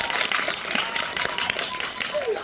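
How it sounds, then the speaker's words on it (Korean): Applause rises from an audience seated at a Korean film talk event, a broadband patter of clapping lasting throughout, with a voice speaking over it. "박수를 한번 다시."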